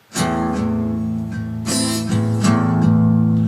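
A guitar strums a steady eight-stroke pattern, the bright strokes ringing clearly and close by with sustained chords between them.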